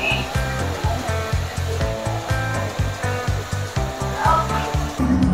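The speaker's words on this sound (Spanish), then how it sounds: "Iremos al secador con un gorro plástico." A hood hair dryer blows over hair covered by a plastic cap, giving a steady airy whoosh that runs the whole time under a rhythmic, pulsing musical background.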